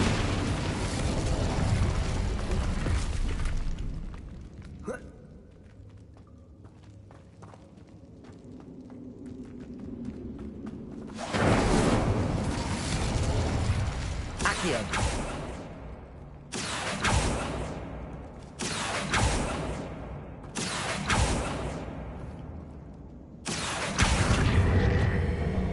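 Incendio fire spell bursts in Hogwarts Legacy, a series of loud whooshing blasts and booms repeating in close succession, with quieter ambient stretches between.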